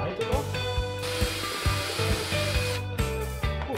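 A power drill bores a hole through a wooden base in a DIY Easter bunny project, its motor whining loud and close with repeated short stuttering bursts and brief pauses as the bit bites into the wood.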